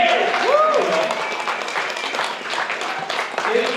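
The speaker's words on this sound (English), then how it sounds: "You can clap for him." Wedding guests at a reception clap for the officiant, a scattered burst of applause mixed with crowd chatter and a few whistles, fairly close and moderately loud.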